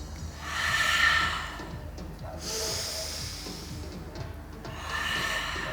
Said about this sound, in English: Take a deep breath in, reach the arms up high. Exhale